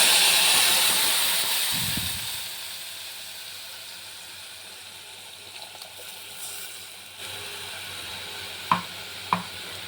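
Turmeric frying in hot oil for a Konkani kadhi, a strong hiss that slowly fades over several seconds, followed by quiet sizzling and a couple of sharp utensil taps near the end, with no voices.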